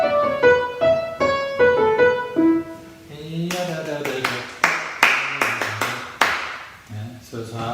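A melodic phrase plays first, then sharp hand claps follow in a rhythmic pattern, several quick claps spaced unevenly, with voices around them.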